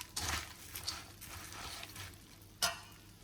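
A bhel snack with chickpeas and coriander is stirred and tossed in a bowl, giving faint scraping and rustling sounds with a few soft knocks, one slightly sharper near the end.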